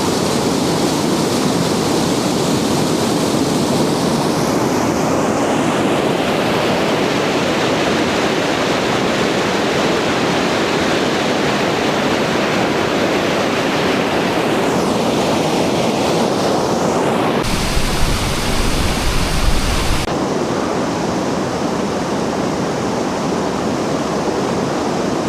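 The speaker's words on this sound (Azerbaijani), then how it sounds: "Şəlaləni geridə qoyduq." Mucuq waterfall roars as a steady, loud broadband rush of falling water with wind buffeting the microphone, continuous for the whole stretch with no voices.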